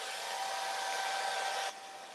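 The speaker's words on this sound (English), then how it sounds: "Don't play with the blow dryer." Blow dryer running with a steady, loud airy roar and a faint whine, then dropping abruptly to a lower setting near the end.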